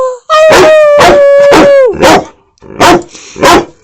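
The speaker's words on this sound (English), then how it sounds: "Roscoe Howl" A puppy howls in long, loud, wavering drawn-out notes that end in a few shorter yips and barks, heard close up on its own with no voice over it.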